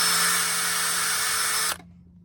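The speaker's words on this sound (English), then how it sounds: "drill a couple holes through here and then push this through" An electric drill whines steadily as it bores a hole through a mount, running for nearly two seconds before stopping abruptly into near silence.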